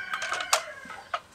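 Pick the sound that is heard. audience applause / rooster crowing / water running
rooster crowing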